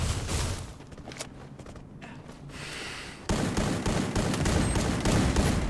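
Rapid bursts of automatic gunfire from the battle-royale game Free Fire, with clustered shots and a denser volley in the second half, loud and up front with scattered in-game footsteps and no talking.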